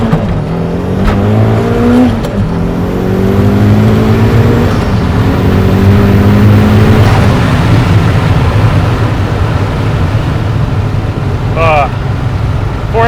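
A 900 hp rust-bucket car launches from a stop at full throttle in first gear, its engine roaring loud and close as the pitch climbs steadily through the revs, with a shift partway through and the engine straining on.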